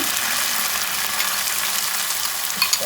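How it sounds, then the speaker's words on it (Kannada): Onions frying in hot oil with ginger garlic paste in a pan for pav bhaji, a steady, even sizzle that hisses continuously at moderate volume, with a faint stir or clink near the end. "ಸ್ವಲ್ಪ ಇದೊಂದು ಚೂರು ಗೋಲ್ಡನ್ ಫ್ರೈ ಆಗಲಿ."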